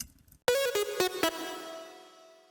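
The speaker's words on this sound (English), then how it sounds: "So the next synth is just a funky lead sound." Funky lead synth thickened with OTT compression plays a short, bright phrase of several quick punchy notes, then a held tone rings out and fades alone.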